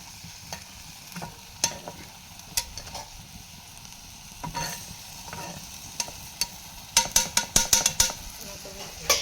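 Wild greens with salted dried fish stirred in a pan, a steady sizzle under repeated scraping strokes that come quicker and louder toward the end.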